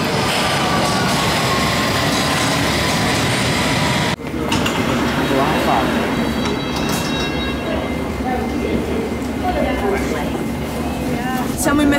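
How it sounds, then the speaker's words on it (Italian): A London Underground metro train rides along with a loud, steady rumble and rail roar throughout, briefly dipping around a third of the way in, while people talk over the noise. "Siamo in metro, dovremmo arrivare tra mezz'ora."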